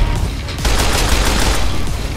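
Sniper and other gunfire in the Roblox game Dummies vs Noobs, a loud dense barrage of shots that keeps going without a break, with a heavier burst joining in partway through.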